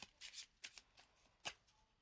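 Resident Evil 3 board game cards being shuffled, a few quick papery riffles and flicks in short bursts, fairly faint and close with no talking.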